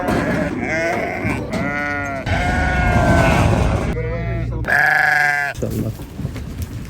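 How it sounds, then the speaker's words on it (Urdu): Goats and sheep bleat loudly and repeatedly at close range at a livestock market near Mount Uhud in Madina, with wavering cries overlapping one another and a voice talking between them. "بکریاں ہیں جو بھیڑیں ہیں وہ یہاں پہ لے کے آتے ہیں"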